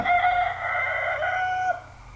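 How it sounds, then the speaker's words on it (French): A rooster crows once, loud and close, a sustained harmonic call that holds for about two seconds before breaking off, with a low steady hum beneath. "Donc une vidéo de coq."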